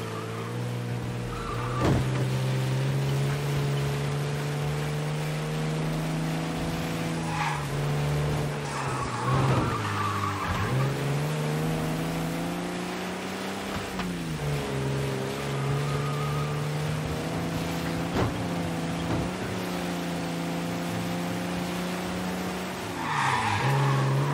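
Cars roar through a chase in Mafia: Definitive Edition, engines droning steadily with repeated tire skids and squeals breaking in throughout, loud and continuous with no talking.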